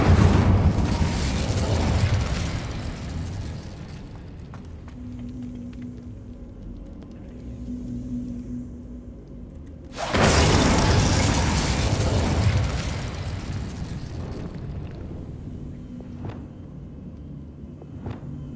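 Fiery spell blasts cast in the Hogwarts Legacy video game, a roaring burst opening the clip and a second loud whooshing eruption about halfway through, each trailing into a low rumbling tail over quieter game ambience.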